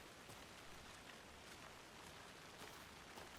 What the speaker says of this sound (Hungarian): Esik az eső.